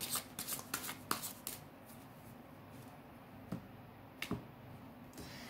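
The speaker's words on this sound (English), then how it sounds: "Let's get some tarot cards." Tarot cards being shuffled in quiet, faint bursts of riffling and light snapping taps, scattered across a few seconds with pauses between them.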